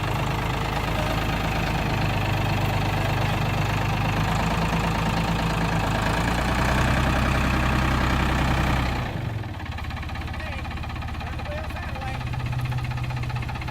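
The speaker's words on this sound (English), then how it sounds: "He's turning the tractor." A tractor engine runs loud and steady with a low rumbling drone while the machine turns, then the tone drops and thins as it eases off near the end.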